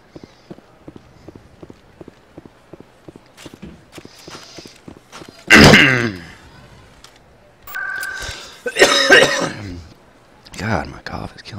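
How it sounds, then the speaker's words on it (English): A person's single harsh cough bursts out loudly midway, over evenly paced in-game footsteps from Mass Effect, followed by stretches of talking. "God, my cough is killing me today."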